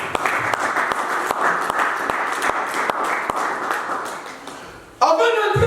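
A church congregation claps in a fast, steady rhythm for about five seconds, loud and close, then a voice rises over the applause near the end.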